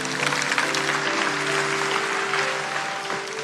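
A church congregation applauds in a loud, full, sustained burst of clapping that fills the room, with a faint sustained tone running beneath it.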